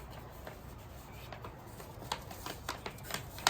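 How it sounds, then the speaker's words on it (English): Paper insurance documents being folded and handled, faint soft rustling with a few crisp creases and sharp paper snaps toward the end. "gotta fold all these papers"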